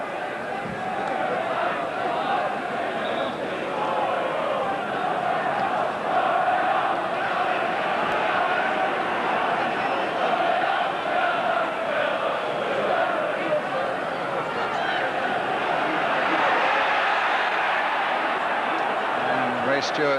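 A noisy St James's Park football crowd at a Newcastle United v West Ham match, a dense continuous roar of thousands of fans swelling slightly, with a commentator talking over it.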